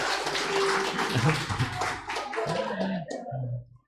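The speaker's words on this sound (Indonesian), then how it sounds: "Kita tepuk tangan untuk kita semuanya, Ibu Bapak." Church congregation clapping together during a Sunday worship service, a dense burst of many hands under a bit of voice and room murmur, tapering off near the end.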